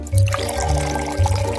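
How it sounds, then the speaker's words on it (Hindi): Prepared sugar solution is poured into boiling sugar syrup for making lollipops. A loud liquid splash and pour runs in two surges over a low, steady hum. "तैयार घोल को सिरप में डालें।"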